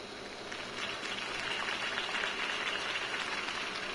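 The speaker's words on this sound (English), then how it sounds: "could have heard that applause" Crowd applause rises after a campaign speech in the Batman Telltale video game, a dense, steady wash of clapping that holds evenly throughout.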